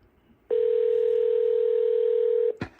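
A telephone line produces one steady, unbroken electronic tone lasting about two seconds, loud and close, followed by a brief click as it cuts off.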